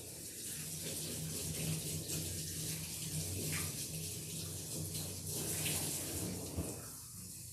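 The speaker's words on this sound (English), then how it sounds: "now I'll rinse over her muzzle, trying to not let any water get in her nose" Running water sprays steadily from a tap or hose as a doodle dog's muzzle is rinsed during a grooming bath, a close, continuous hiss with no talking.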